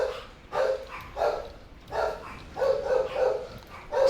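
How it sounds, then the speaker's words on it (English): Several dogs bark in repeated bursts, about seven loud, close yaps spread evenly across the stretch, agitated and continuous with short gaps between volleys. "Yeah, those are unhappy doggies."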